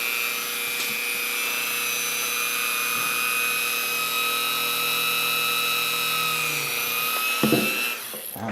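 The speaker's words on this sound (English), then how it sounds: "add those using the tip of a sanding drum on a Dremel tool" A Dremel rotary tool with a sanding drum tip whines and grinds at high speed, a steady buzzing drone that holds for several seconds before briefly catching and dropping off near the end.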